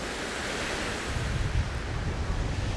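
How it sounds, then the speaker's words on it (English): Strong waves roll in on a windy Lake Winnipeg beach with a rocky shoreline, as a continuous roar of surf mixed with heavy wind buffeting the microphone, a surge building partway through. "It's pretty windy here, and the waves are coming in pretty strong."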